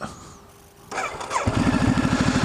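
A motorcycle's engine cranks briefly, then catches and settles into a loud, close, rapid rhythmic idle that continues to the end, with no speech.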